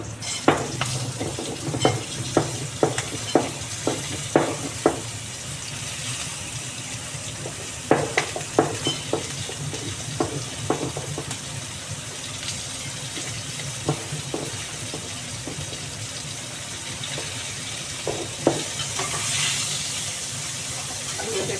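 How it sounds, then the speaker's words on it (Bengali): Potatoes and eggplant sizzle steadily in a frying pan while a spatula scrapes and taps in scattered bursts, close by and moderately loud. "আলু বেগুনটা একটু ভাজা ভাজা হয়ে গেছে"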